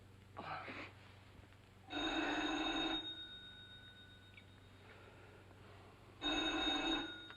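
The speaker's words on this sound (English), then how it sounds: "That phone hasn't stopped ringing since I got in the house." Telephone bell ringing indoors in a house, faint, in two or three separated bursts with quiet gaps between rings.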